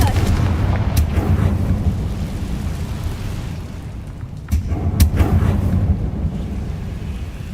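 A Confringo fire curse cast in Hogwarts Legacy brings a rumbling, booming explosion sound, a dense low roar with sharp blasts around one and five seconds.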